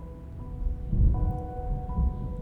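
Storm with rain and thunder in the video game Reverse 1999: low, rolling rumbles swell under a steady backdrop of sustained musical tones, with no voices.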